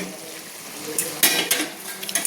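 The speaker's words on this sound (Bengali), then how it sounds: "তো দেখুন আমি চিংড়ি মাছগুলো দিয়ে ভালো করে আমি আবার নেড়ে নিয়েছি" A metal spoon scrapes and clinks against a cooking pot as prawns and spinach are stirred, a few sharp knocks over a soft steady sizzle, close and alone.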